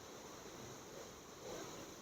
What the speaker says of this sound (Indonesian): Itu suara air terjun, bukan hujan.